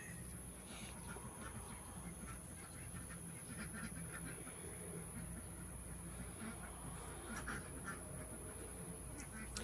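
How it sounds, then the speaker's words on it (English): Ducks quack intermittently at a moderate distance over a steady outdoor background hum, with a few scattered honks mixed in. "Duck crossing."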